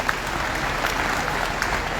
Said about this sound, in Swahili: Hebu pigieni gavana makofi mazuri.